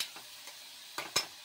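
Ginger garlic paste fries with chana dal in a pan, a quiet, soft hiss punctuated by two quick spoon scrapes near the end.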